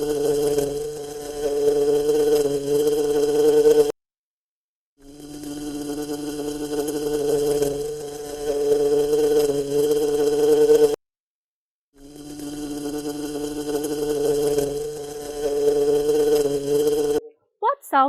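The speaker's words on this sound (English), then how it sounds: "A fly buzzes." A fly buzzes loudly and close in three long stretches separated by brief silences, the drone wavering slightly in pitch.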